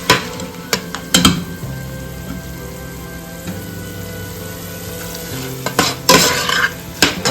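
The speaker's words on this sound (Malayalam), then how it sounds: "സബോള നന്നായിട്ട് വഴറ്റി വരട്ടോ" Onions sautéing with curry leaves in a pan for a Kerala-style soya chunk dry fry, a steady close sizzle broken by repeated scraping stirs, with louder clatters near the start and end.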